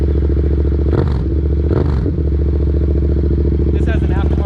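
A motorcycle, a Yamaha XSR700 or Suzuki DRZ400SM supermoto, fires up and settles into a loud, close, steady throbbing idle with a couple of brief rattling blips.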